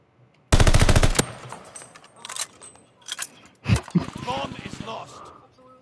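Video game gunfire opens with a loud, rapid burst of automatic shots, followed by scattered quieter shots and a second rattling burst, with players talking over it.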